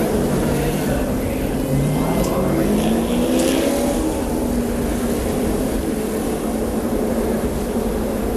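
NASCAR stock cars at the 2005 UAW-Ford 500 roar past on the track in a continuous loud engine drone, with rising and falling pitch sweeps as cars pass. A commentator talks over the engine noise.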